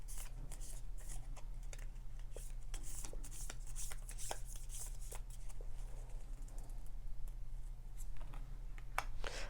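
Lenormand cards being shuffled close up, a continuous soft riffling and slapping of card stock with a steady low hum in the background, no talk.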